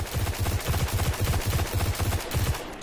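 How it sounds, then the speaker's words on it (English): Khvostov exotic pulse rifle firing in Destiny, a rapid run of short three-round bursts repeating steadily and loudly for nearly three seconds with no voices. "this turns into the fastest firing pulse rifle in the game"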